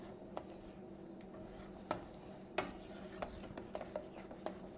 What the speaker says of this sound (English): So you want to keep on mixing till the butter is completely melted.